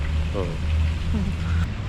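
Steady rain hisses throughout, a dense wash of falling drops with a low rumble underneath and no voices.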